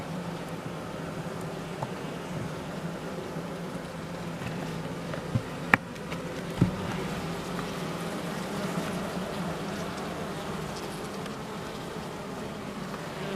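Honeybees buzzing steadily inside a small hive during queen-cell work, a continuous low drone with no talk, unchanging throughout.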